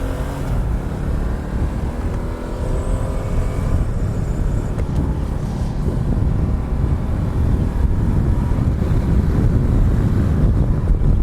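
A base 2020 Ducati Multistrada 1260 motorcycle pulls away and rides on, its engine hum and rising wind rush building to a loud, steady roar with no one speaking.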